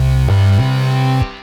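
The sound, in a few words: synthesizer harmony sound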